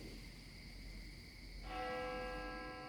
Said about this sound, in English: Suddenly, the bell starts to ring loudly.